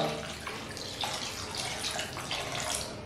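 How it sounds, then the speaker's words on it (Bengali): A cup of water splashes into a cooking pan for a paneer curry, a short, steady, close pour with a soft gurgling wash and no speech. "এইবার দিয়ে দিচ্ছি 1 কাপ জল"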